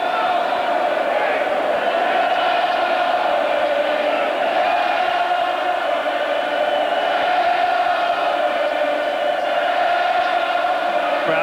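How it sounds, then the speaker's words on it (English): A large 1988 Denver Broncos football stadium crowd chanting Elway, a steady, dense roar of many voices that holds its loudness throughout. "Crowd with one final Elway chant, even though Kubiak's in the game"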